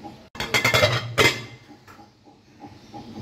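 A lid clatters onto a bowl of spiced chicken left to marinate for shashlik kebab: a burst of clinking and rattling contact, then a second sharp knock, followed by faint small taps as it settles.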